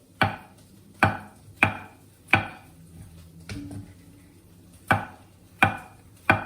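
A knife slicing ingredients for bacon and mushroom risotto on a cutting board, sharp separate chops in an uneven rhythm, close and clear with a pause in the middle.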